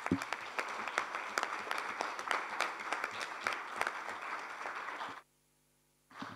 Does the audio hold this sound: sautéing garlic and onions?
no